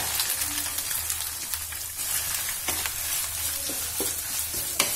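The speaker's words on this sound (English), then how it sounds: "You have to fry it until it turns brown in color" Soya chunks fry in hot oil with a steady, close sizzle and crackle, punctuated by occasional sharper pops and scraping stirs of the pan.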